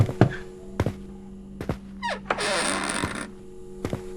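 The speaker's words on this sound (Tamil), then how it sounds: "உள்ளயும் கதவை தட்டுறான்" Knocking on a door, a few separate dull thuds spaced out over several seconds, close and fairly quiet, with a brief creak and rustle in the middle and no talk.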